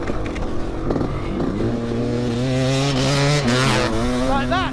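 A Yamaha YZ500 two-stroke motocross bike revs and accelerates close by, its engine note climbing and shifting through gears in a loud, continuous buzz.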